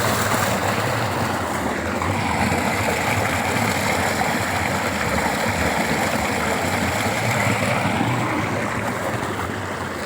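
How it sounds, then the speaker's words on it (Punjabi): A tubewell pump motor runs steadily on a farm field, its water gushing out in a loud, continuous rushing roar like a waterfall that holds unchanged throughout with no voices. "ਆ ਦੇਖੋ ਜਿਵੇਂ ਆ ਬੰਬੀ ਦੀ ਨਾ ਚੱਲ ਮੋਟਰ ਚੱਲਦੀ ਹੁੰਦੀ ਉਹਦੀ ਆਵਾਜ਼"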